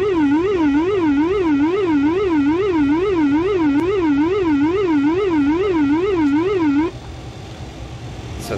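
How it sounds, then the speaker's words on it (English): An ATR 72-500 cockpit whooler alert sounds during an elevator trim test, a loud continuous warbling tone rising and falling rapidly for about seven seconds before cutting off to quiet cockpit hum. "So that's the sound of the Wooler."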